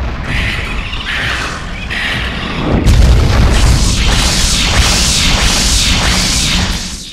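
A magical attack spell in Eternal Darkness: Sanity's Requiem starts with a soft shimmering hum, then a loud booming burst hits near the three-second mark and rolls into sweeping whooshes that fade out slowly.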